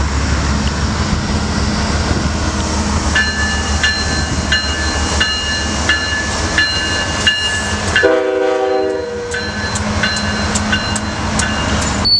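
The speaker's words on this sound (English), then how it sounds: "we see this Union Pacific train" A Union Pacific freight train rolls past close by with a loud, continuous rumble of wheels and cars. Its horn sounds in several sustained blasts partway through, followed by a sharp, high ringing as the train keeps moving.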